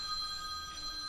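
A telephone ringing in a home classroom setting, a steady electronic ring tone held throughout at moderate level, with no one speaking.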